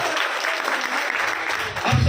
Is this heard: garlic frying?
no